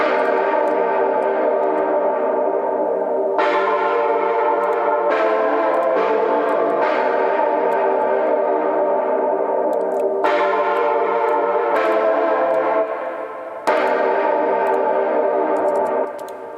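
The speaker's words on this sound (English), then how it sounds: "the reverb slowly swells in and like fills up the gaps" A looped music sample drenched in a swelling reverb effect that fills the gaps between phrases, sustained and loud, with abrupt restarts every few seconds and a brief drop near the end; no voices.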